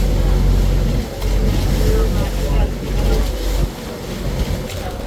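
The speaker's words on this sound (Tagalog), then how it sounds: "Ganda ng speedboat to." A speedboat engine drones low and steady alongside splashing water and wind, the hull thumping over small waves off Palawan, with voices faintly mixed in.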